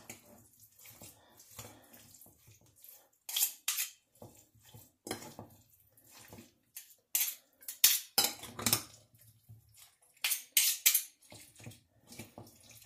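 Cutlery scrapes and clinks against a dish while potato spread is mixed with olive oil and salt, irregular clattering bursts close by, with quieter pauses and soft knocks between them.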